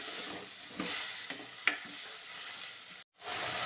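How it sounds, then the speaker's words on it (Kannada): Potatoes frying in oil for a simple potato palya, with a soft continuous sizzle, several scraping stirs and a sharp clack, then a brief total dropout before the frying hiss returns. "ಈಗ ನಾನು ಆಲೂಗೆಡ್ಡೆನ ಸೇರಿಸ್ತಾ ಇದ್ದೀನಿ. ಇದು ಚೆನ್ನಾಗಿ ಸ್ವಲ್ಪ ಎಣ್ಣೆಲೇ ಚೆನ್ನಾಗಿ ಫ್ರೈ ಆಗಲಿ."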